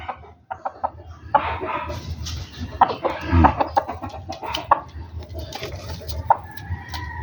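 Two pet roosters square off at close range, giving repeated clucks and short squawks over a rustling farmyard background.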